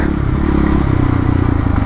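Yamaha YZF 450 supermoto four-stroke engine running steadily close by, a loud, dense low thumping idle throughout with no pauses.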